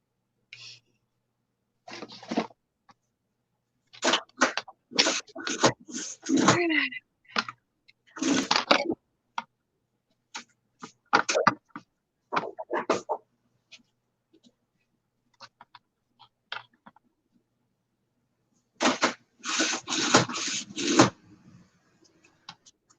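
Paper for a 10 x 10 mini album being trimmed half an inch, with clusters of crisp cutting and sliding strokes broken by pauses, close and clear, and no talking.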